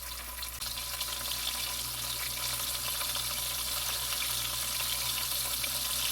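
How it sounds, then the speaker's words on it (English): Pork loin searing in a hot pan during low-and-slow oven cooking prep, giving a steady, even sizzle and hiss that runs unbroken through the whole stretch, close and fairly quiet, with no voices. "Let's get a good sear on it"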